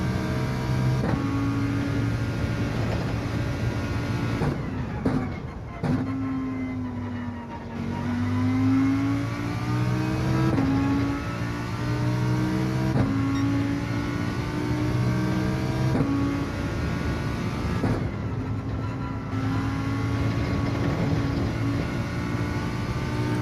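A Ferrari 458 race car engine in the video game Gran Turismo 7 revs loudly and continuously, pitch climbing and dropping through repeated gear shifts, with brief dips between bursts of acceleration.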